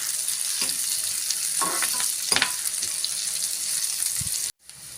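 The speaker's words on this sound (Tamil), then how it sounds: "கருவேப்பிலை ஒரு கொத்து சேர்த்துக்கலாங்க." A sprig of curry leaves fries with onion and green chilli in a pan, a close crackling sizzle with a few scraping stirs. The sound cuts out briefly near the end.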